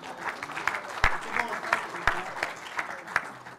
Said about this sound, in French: Lorenzo Vassallo du Dojo Romanè, qu'on applaudit s'il vous plaît